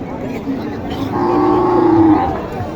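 A cow lets out a long, low moo against a busy, crowded background murmur at Mataji cattle market, Naogaon, fairly close and moderately loud.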